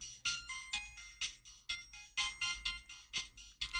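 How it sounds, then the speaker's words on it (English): A phone ringtone playing a rapid, repeating run of bright electronic notes in steady pulses, fairly faint and heard alone with no voices. "I suddenly hear my phone ring"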